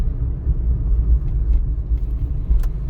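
A car on a city road during a driving lesson, its engine and tyre rumble steady and close throughout, with no talk.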